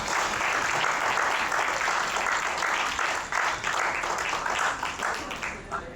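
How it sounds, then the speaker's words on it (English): A large audience breaks into sustained applause, a dense wash of clapping that carries on steadily throughout. "Have a big applause for her."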